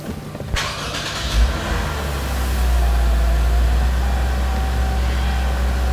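A Lexus RC 350 F-Sport starts up close by: a short starter crank, a sharp catch and flare, then a loud, steady idle rumble that settles and holds.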